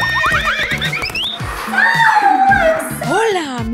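A horse neighing, high whinnying calls that rise and fall over excited voices talking in Spanish.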